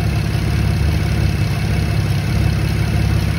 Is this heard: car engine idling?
yes